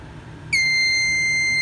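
A fire alarm panel's trouble buzzer switches on abruptly partway through and holds a steady, piercing electronic tone, loud and close, over a low background hum.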